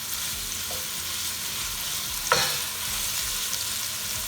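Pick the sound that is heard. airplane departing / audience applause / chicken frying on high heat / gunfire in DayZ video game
chicken frying on high heat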